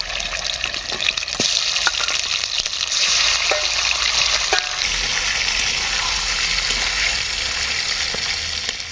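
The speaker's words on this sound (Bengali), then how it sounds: "বাকি মাংসটাও ভেজে নেব।" The rest of the chicken fries in mustard oil for a yogurt chicken dish, a loud, continuous close-up sizzle with scattered sharp pops and occasional stirring clatter.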